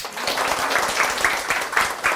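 Students at a Korean-language lecture session clap together, a short burst of rhythmic, moderately loud applause with regular beats.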